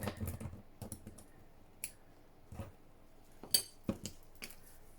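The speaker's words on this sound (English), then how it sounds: "We are going to give this a snip." Scissors snip through junk journal material during crafting, giving a series of short, crisp clicks and cuts at close range, scattered irregularly with brief quiet gaps between them.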